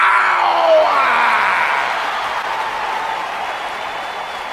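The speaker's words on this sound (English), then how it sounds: "Clap for your best of 5 series hosts and feel the power." Crowd applause and cheering fill an arena in the WWE 2K20 wrestling video game, a loud, dense wash of clapping that swells briefly early on and then holds steady while slowly easing off.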